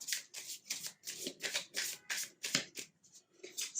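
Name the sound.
shuffling Gypsy Oracle cards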